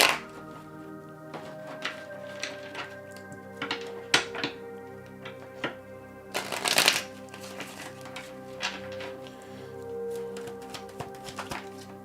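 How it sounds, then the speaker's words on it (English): Tarot cards being shuffled by hand, a series of irregular soft riffles, taps and thumps, with a louder burst of shuffling midway. "let me shuffle this again, Montaigne."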